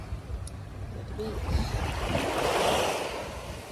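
Surf washing onto a rocky beach at Ocean Cay, a steady broad wash of waves building toward the end, heard close with some wind buffeting the microphone.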